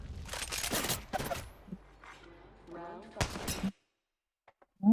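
Several sharp single gunshots fire in a video game, spaced irregularly with short reverberant tails, loud against a low background, followed by quiet with a few faint clicks.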